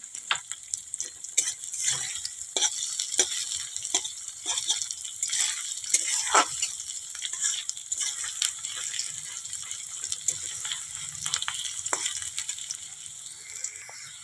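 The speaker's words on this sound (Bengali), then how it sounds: "পেঁয়াজটা একটু লাল করে ভেজে নেব" Onions frying in a pan until reddish, with a loud dense crackling sizzle throughout and frequent rattling spatula strokes against the metal pan.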